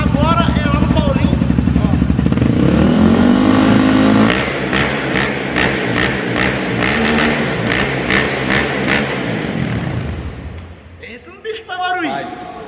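Honda XRE 340cc motorcycle at its first start, engine loud and revving up steadily for the first few seconds, then rumbling on near and close with bursts as people talk and shout excitedly over it.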